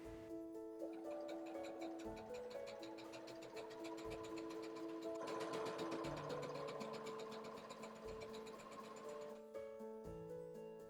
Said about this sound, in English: Lower the presser foot, then sew a straight stitch along the entire top edge of your fabric.